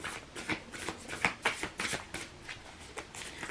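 Tarot cards being shuffled by hand, a close, quiet series of quick papery riffles and flicks in an uneven rhythm lasting a few seconds, with no speech.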